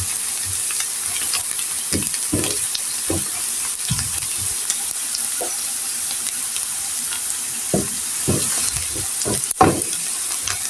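Onions fry until brown in hot oil in a pan while a tilapia fish bhorta is made, a steady close sizzle broken by stirring scrapes and occasional louder pops.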